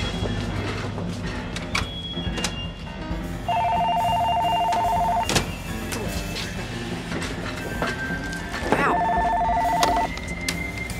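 A telephone rings twice, each ring a steady electronic trill lasting about a second and a half, set against a busy background of rumble and clatter with clicks and knocks between the rings.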